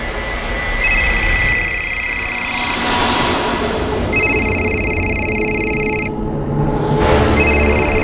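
A telephone rings in repeated electronic bursts of about two seconds each, separated by short gaps. It sounds loud and near over a steady background hum, with no talk.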